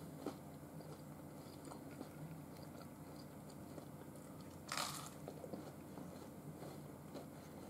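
Close, soft chewing of an air-fried frozen onion ring, with crunchy bites and moist mouth sounds repeating over a few seconds, no talking.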